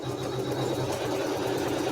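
A sewing machine stitches down a quilt tack with a steady, continuous mechanical whir and rapid needle chatter, close up and uninterrupted.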